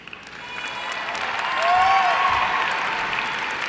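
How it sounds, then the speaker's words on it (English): An audience at a United High School graduation ceremony in 2018 claps steadily, the applause swelling in the middle and then holding as a broad, sustained wash of many hands. "thank you for the applause"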